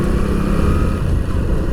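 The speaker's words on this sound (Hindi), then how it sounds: "ये देखिए कितनी लंबी लाइन लगी है मोटरसाइकिल वालों की।" Motorcycles idle and rumble in a queue at a highway toll booth on a trip from Kanpur toward Ladakh, a loud, steady, close engine drone with no pauses.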